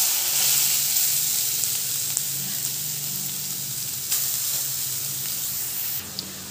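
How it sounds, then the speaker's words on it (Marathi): Grated carrot frying in ghee in a wok for carrot halwa gives a loud, steady, close sizzle that holds evenly throughout, with a few faint clicks and no talking. "सुरुवातीला ही मोठी पळी 2 चमचे मी तूप टाकलेलं आहे आणि आता आपल्याला गाजर जो किसून घेतला आहे तो टाकायचा आहे"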